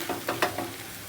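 Sabudana khichdi with peanuts being stirred in a pan during a fasting-day cooking session, a few quick scraping strokes over a faint background sizzle, close and fairly quiet.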